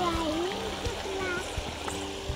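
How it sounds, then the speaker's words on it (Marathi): Stream water flows continuously in a rural setting after recent rain, a steady burbling wash under a person talking nearby. "आज 10 तारीख आहे तरी पण पाणी भरपूर प्रमाणात याचं वाहते"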